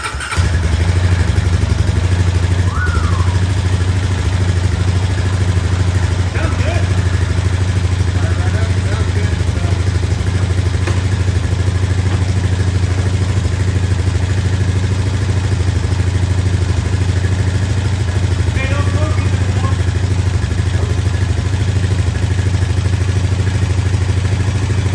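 A Honda Rancher 420 ATV engine idles steadily and loudly up close, a continuous low rumble with slight clatter that persists for the whole stretch after a fuel pump prime.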